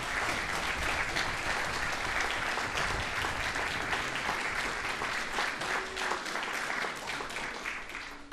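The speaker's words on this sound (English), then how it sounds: "Would you please join me in giving the officers a well-deserved round of applause?" A ceremony crowd gives police officers a sustained round of applause at a Yorktown Police Department awards event, dense clapping that holds steady for several seconds then gradually thins toward the end.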